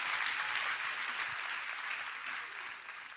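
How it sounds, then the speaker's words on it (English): Steady audience applause, a dense and continuous wash of many hands clapping at moderate distance, staying even throughout and easing off only slightly near the end. "Can y'all clap it up for her being brave enough?"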